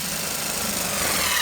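A steady, buzzing power-tool whir runs without pause, close and fairly loud, as a drill drives a screw into metal.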